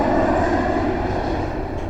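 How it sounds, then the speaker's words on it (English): A steady, loud airplane engine drone in a children's cartoon audiobook hums continuously, a smooth low roar with no speech over it. "Daddy Pig lands the airplane on the mountain."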